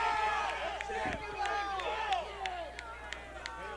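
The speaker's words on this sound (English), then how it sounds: "Fort Bragg crowd saying, throw him out of the game." Fort Bragg home crowd at a high school football game against Lower Lake, a mass of overlapping shouting voices at moderate distance, with scattered sharp claps or whistles over it.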